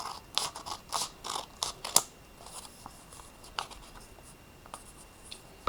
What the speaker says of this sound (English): And then I want you to cut on that line.